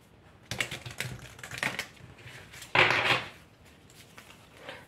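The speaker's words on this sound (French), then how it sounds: "Attendez, je tire des cartes." Tarot cards being drawn and handled close by, a few soft papery shuffles and flicks followed by one louder slapping rustle, then a faint rustle at the end, no talk.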